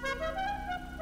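A car horn in Grand Theft Auto V sounds one steady, sustained honk for about a second, moderately quiet and alone.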